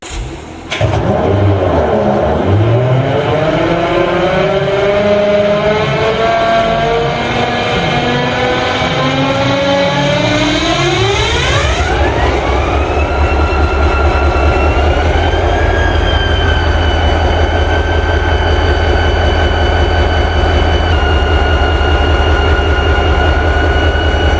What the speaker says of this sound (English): a vintage SDP-40 starting up on its first 2019 Ops Day